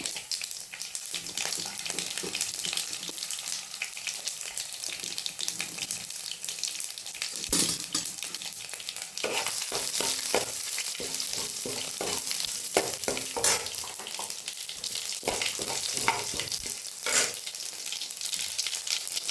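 Cumin, garlic and green and dry chillies frying in hot oil: a steady, bright sizzle that never lets up, broken by stirring scrapes and occasional pops from the pan.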